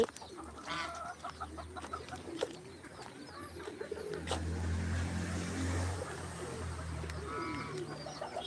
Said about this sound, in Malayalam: ഇവിടെ രണ്ട് കോഴി ഉണ്ട്